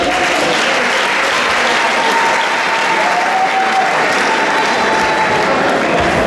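A wedding dinner crowd in Congo-Brazzaville applauds loudly and continuously, dense clapping filling the whole stretch, with faint voices calling out within it.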